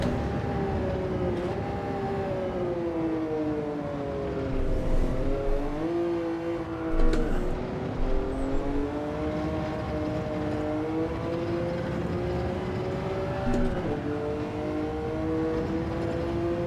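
A car engine in the racing game Gran Turismo 7 during a time trial, revving and holding a steady droning tone that climbs and drops through the rev range with brief shifts, loud and continuous without talk.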